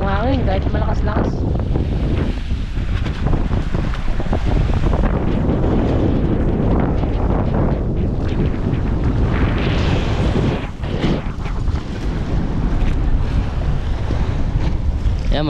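Strong wind at sea buffets the microphone over crashing waves enlarged by a passing ship's wake, a loud continuous roar with gusts throughout.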